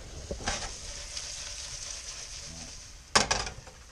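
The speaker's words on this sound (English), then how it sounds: "So now we just gotta work on the scampi here" Shrimp scampi fries in a pan with a steady, close sizzle, and a sharp burst of crackling spatter near the end.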